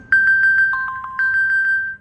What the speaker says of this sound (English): You can double press this button to ring the phone even when it's on silent.